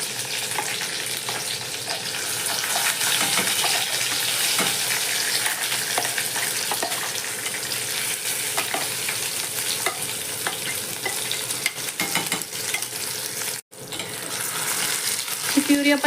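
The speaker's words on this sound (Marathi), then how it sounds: "प्युरी आपण छानपैकी भाजून घेणार आहोत आता." Ground puree, just added to hot oil tempered with cumin, mustard seed and curry leaves for Kashmiri dum aloo, fries with a steady loud sizzle and frequent stirring scrapes, alone for about sixteen seconds with one brief break.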